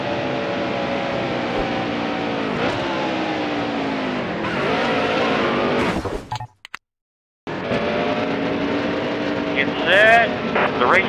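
Race cars at Watkins Glen roar as the race starts, a dense field of engines droning and rising in pitch, broken by a brief dropout before the pack returns with tyre squeal, while voices talk over it.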